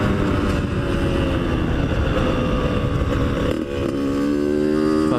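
A dirt bike engine drones loud and steady while riding, with a dip and a rise in pitch partway through as the rider works the throttle.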